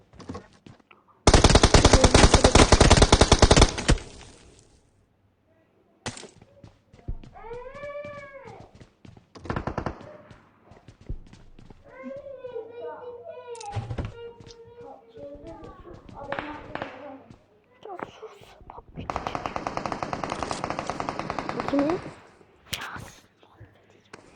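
Bursts of automatic gunfire from the PUBG video game, two long loud volleys several seconds each with scattered single shots and other game sounds between them.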